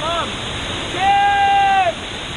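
Steady rushing water from a waterfall in Hawaii, loud and continuous, with excited voices and a high calling tone rising over it partway through.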